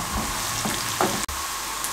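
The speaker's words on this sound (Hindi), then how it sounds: "ऑयल गर्म हो चुका है, इस टाइम पे आके चॉप की हुई सब्ज़ मिर्चें और प्याज इसमें शामिल कर दें" Chopped green chillies and onions frying in hot oil on a tawa for a street-style egg burger, a loud steady sizzle with a brief stirring scrape, close and without speech.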